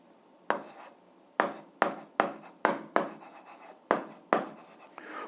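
An algebra solution is written out by hand in a series of about eight separate scratchy strokes, each a short rasping burst with brief pauses between, close and fairly quiet with no speech.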